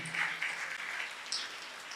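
An audience claps hands during a Tamil village sermon, a brief, even patter of many hands at moderate distance with no talk over it.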